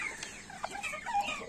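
Chickens and a rooster in a coop, clucking and short squawks scattered close by, soft and irregular over a quiet background.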